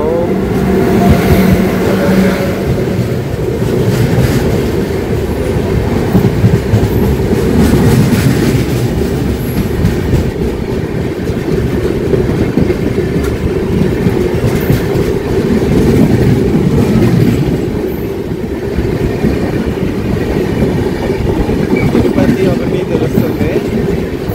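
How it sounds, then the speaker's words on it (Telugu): A passing train hauled by a WAP-7 electric locomotive rumbles and clatters steadily nearby, a loud sustained roar of wheels on rails with faint clickety-clack throughout. "ఏదో ట్రైన్ వస్తుందండి."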